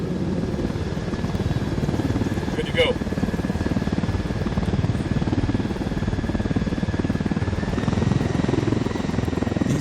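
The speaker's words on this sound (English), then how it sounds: "These helicopters, there's 3 different helicopters in the game, and then there's variations of them. This one's a heavy" A heavy helicopter in the video game Ghost Recon Wildlands flies with a loud, continuous rotor thrum and engine whine, and a short radio-style voice line is spoken over it.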